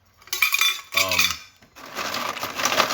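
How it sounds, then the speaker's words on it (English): Cups and spoons clink and rattle while coffee is made, with close, busy ceramic and metal knocks, followed by a steady rushing pour or hiss. "I'm making up coffee this morning."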